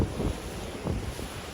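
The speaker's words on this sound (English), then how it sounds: "hearing the sound of the water, touching the water, smelling the softness of the sea" Sea waves at the seaside in Peacehaven, England, a short stretch of soft surf washing in under heavy wind buffeting on the microphone.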